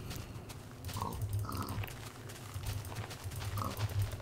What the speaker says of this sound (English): Oh, there's a pig.